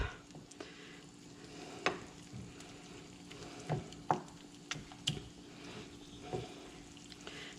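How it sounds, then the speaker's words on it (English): Chicken livers fry in a liquid-filled pan for pâté while being stirred: a steady close sizzle broken by scattered scraping clicks and knocks of the utensil. "we're just trying to make sure we stir those all up"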